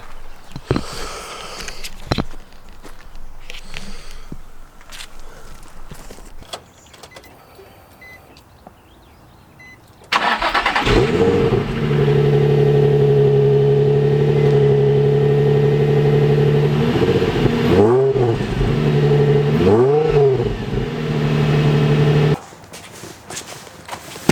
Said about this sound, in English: Let's check out a stock cold start for this thing